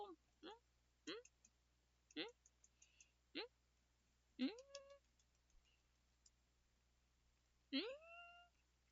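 A pet cat meows near a windowsill, giving a few short calls and then two longer, drawn-out meows, fairly close, between spells of a person talking.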